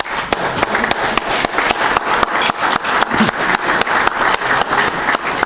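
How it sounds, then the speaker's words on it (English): An audience applauds at a cardiology lecture on ischemic conditioning and endothelial function, with rhythmic, fairly close clapping in a steady pulse throughout. "So I want to give a round of applause to June Ma and Jack."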